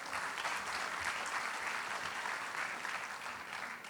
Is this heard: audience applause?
yes